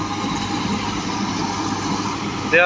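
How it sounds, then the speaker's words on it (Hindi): A tractor engine idles steadily at close range, a low continuous rumble holding level throughout with a brief sharper tone near the end. "वेख लो तुसीं परफॉर्मेंस देख लो ट्रैक्टर की।"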